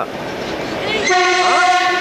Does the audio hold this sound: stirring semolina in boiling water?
no